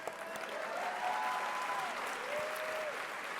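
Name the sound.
round of applause for the servers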